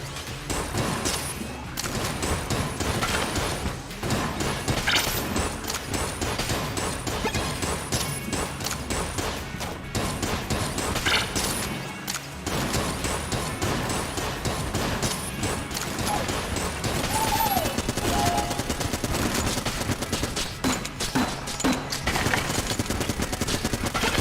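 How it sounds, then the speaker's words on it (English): Dense, nearly nonstop gunfire from the bullet gun in the video game Exit the Gungeon, which shoots other guns as bullets. Rapid bursts and crashes form a loud, continuous barrage mixed with game effects. "The one that shoots other guns as bullets?"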